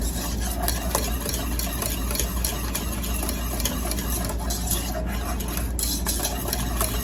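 A spoon stirring granules into a liquid until fully blended, a steady continuous swishing and scraping that runs the whole time at even loudness, close by, with no talking.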